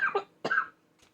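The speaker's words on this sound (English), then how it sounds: "I got a cough, guys." Two short, sharp coughs close together, followed by a faint third one, with quiet between them.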